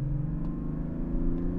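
A 2023 Mazda CX-60 with the 3.3 e-Skyactiv D diesel engine hums in a steady, low, close drone under light acceleration, brief and unbroken by talk.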